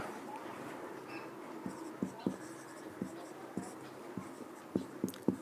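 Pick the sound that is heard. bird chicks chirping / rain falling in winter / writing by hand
writing by hand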